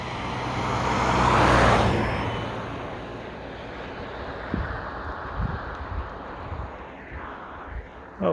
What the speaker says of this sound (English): Another car from the other side.